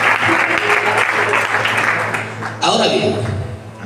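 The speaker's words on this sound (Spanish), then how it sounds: "aplauso que tengas para él" Loud, sustained applause from a youth gathering crowd in Vallecas, a dense wash of clapping that swells again near the end, with some voices mixed in.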